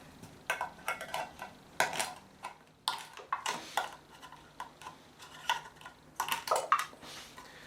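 A beer can opener works into a tin can in a run of sharp, close metallic clicks and scraping bursts that repeat irregularly, separated by brief quiet gaps.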